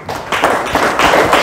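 A live audience gives a round of applause for speaker Sita Shah after her talk, a steady wash of many hands clapping close by that swells after a brief opening and holds throughout.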